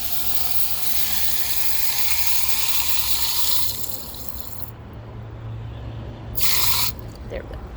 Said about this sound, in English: I will go ahead and put the stage 1 in here and some water